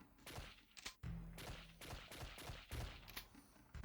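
Rapid electronic gunfire from the Johnny Nero Action Hero light-gun arcade game as bugs are shot, with repeated sharp blasts and bursts over a busy game soundtrack, loud and continuous with no talking.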